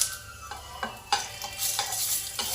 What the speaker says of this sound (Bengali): এবার এর মধ্যে দেবো আমি একটু সর্ষে ফোড়ন, সামান্য সর্ষে ফোড়ন, আর একটা শুকনো লঙ্কা দেবো।